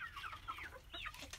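Young chickens in a pen, mostly future laying hens with a couple of roosters, cluck and chirp in a lively overlapping chorus, close and fairly quiet.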